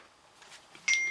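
A phone gives a short electronic beep near the end, bright and close after a quiet stretch, during a palette collection sit-down.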